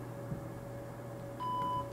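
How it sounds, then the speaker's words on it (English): A BirdMIKE recording device gives a short, clean electronic power-on beep once, close and clear, over a low steady hum. "Did you hear a beep?"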